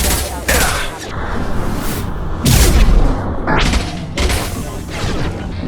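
Loud bursts of gunfire and heavy impacts in Mass Effect 2 Remastered combat, with several dense volleys through the clip and no one speaking.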